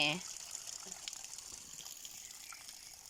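Water scooped from a natural source near farm plots, a steady wet rushing and trickling wash heard close, with a brief splash at the start and people talking over it.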